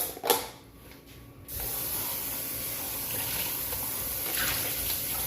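Tap water starts running into a bowl after a brief clunk, then flows in a steady close hiss for several seconds while cooking at a kitchen counter.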